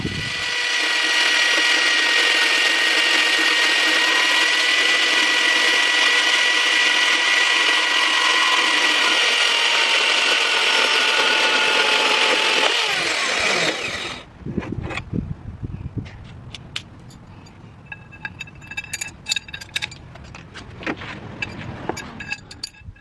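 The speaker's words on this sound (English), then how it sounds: "I just cut the bar, grinded it down little by little, angled it so that way we can get good coverage." A power tool cuts and grinds a metal bar for a car's tow arm, a loud steady high whine for about fourteen seconds, then stopping and followed by scattered clanks and handling noises.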